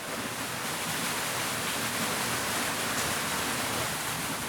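Steady rush of water from Raby Mere spilling over an overflow into a small waterfall, a continuous broadband roar heard close and loud with no voices.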